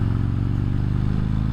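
A Harley-Davidson Road King Special fitted with a Vance and Hines Torquer 450 exhaust idles close by, giving a steady, deep, loping rumble that fills the whole moment without pause.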